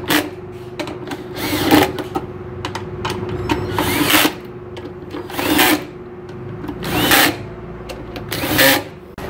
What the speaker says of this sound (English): So we'll set the clutch on the drill pretty low